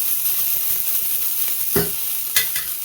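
Green chillies roasting in a little oil crackle with a steady close sizzle, broken by two sharp spatula knocks or scrapes against the pan.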